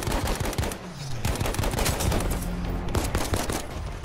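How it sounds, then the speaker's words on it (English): Video game pistol fire comes in rapid, loud cracking bursts of repeated shots, close and dense across the whole stretch, with no talking. "I can't believe I just sniped the guy with the pistol"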